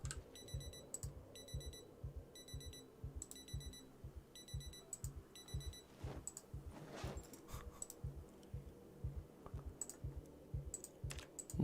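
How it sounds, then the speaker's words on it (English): An alarm clock goes off inside a bag in the modded build 41 of Project Zomboid, sounding as quick, evenly spaced bursts of high beeping over a steady, rhythmic pattern of low thuds. "one of the alarms in our bag is going off."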